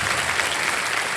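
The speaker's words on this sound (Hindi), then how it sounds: "ताली बजती है।" A studio audience on a TV quiz show bursts into brief, dense applause, a close burst of clapping hands with no voices over it.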